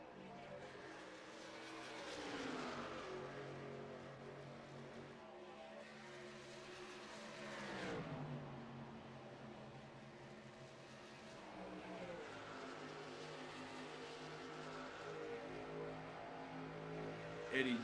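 Race truck engines drone in a truck racing video game at Kentucky Speedway as a truck comes down pit road, with a steady loud hum, rising and falling pitch sweeps, and faint talk underneath.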